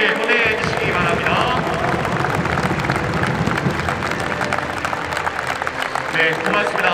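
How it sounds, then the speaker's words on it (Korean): A large stadium crowd applauds at a Heroes baseball retirement ceremony, with dense, steady clapping and crowd noise filling the whole stretch. "팬 여러분 다시 한번 힘찬 박수를 보내 주시기 바랍니다"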